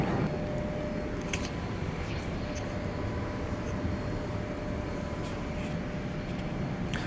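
Steady broadband cabin roar inside an ANA domestic airliner on approach into Kansai, Osaka, after a short flight from Haneda; a constant loud rush with a few faint clicks and rattles on top.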